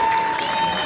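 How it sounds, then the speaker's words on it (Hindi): Live comedy-show crowd in London clapping for a performer, a short burst of steady applause with a sustained musical tone running underneath. "तालियां उसी भाई के लिए।"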